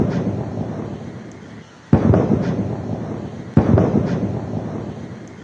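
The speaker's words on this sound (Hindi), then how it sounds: "इस दौरान उन्हें तोपों की सलामी दी गई।" A ceremonial cannon salute at Independence Square in Colombo, Sri Lanka: two sharp, loud booms about two seconds apart, each trailing off into a rolling echo over a low outdoor background.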